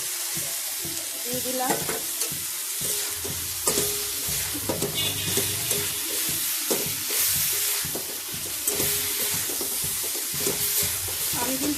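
Soy chunks tossed into a hot pan for soya pulao, a steady loud sizzle with repeated stirring scrapes and clinks throughout, close up, with a brief spoken remark over it.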